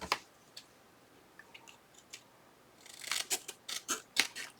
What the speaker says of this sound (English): Now I see that I may need to trim a little bit on the top there.